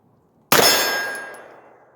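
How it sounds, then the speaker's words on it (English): A single sharp gunshot from Tula 135 grain subsonic hollow point ammunition fired through a 10-inch barrel. One close, loud crack decays over about a second, with a ringing tail. "we're shooting this Tula 135 grains subsonic out of the 10-inch barrel."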